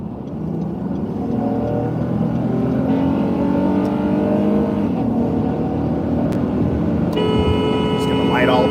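Car accelerating onto an interstate at low speed, engine hum rising steadily from inside the cabin, with a faint chime near the end and a voice speaking over it.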